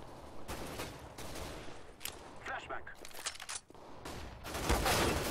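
Gunfire in the video game CS:GO comes in loud, dense bursts and rapid volleys, with a voice speaking now and then in the mix.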